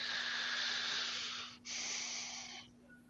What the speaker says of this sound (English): you heard the breathing, right?